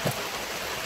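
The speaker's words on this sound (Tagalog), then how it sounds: "Pinapalipas namin yung ulan" Rain falls steadily as a broad, even hiss through the whole short stretch, with a faint brief knock at the start.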